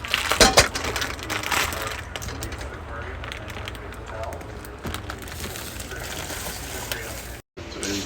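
Oxtail meat searing in extra virgin olive oil for a Cuban-style oxtail dish, a loud burst of sizzle as it hits the pan, then a steady frying hiss with stirring scrapes, and a voice speaking over it.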